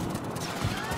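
Gunfire in a shooting video game, a rapid burst of shots layered over a busy low rumble of game sound, fairly loud and close, with some voice activity mixed in.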